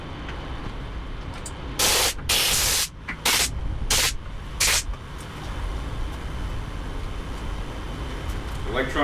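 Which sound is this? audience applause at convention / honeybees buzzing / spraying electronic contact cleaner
spraying electronic contact cleaner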